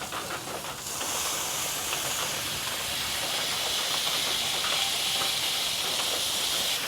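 Smash burgers sizzle on a cast iron griddle set over a gas grill: a loud, steady, broadband hiss that swells after a brief quieter start and holds evenly throughout.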